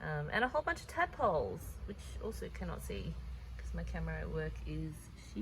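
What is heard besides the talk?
None of the usual background noises is heard.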